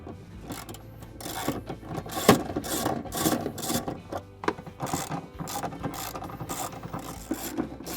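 Ratchet working 12mm airbox bolts loose on a Toyota Tacoma during a cold air intake install, with quick clicking pawl bursts, metallic clanks and handling noises close by, no talking.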